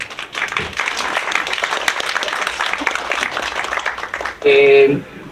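An audience at a book presentation applauds the visiting presenter with sustained, crackling clapping that fills the room, then a voice cuts in clearly at the very end.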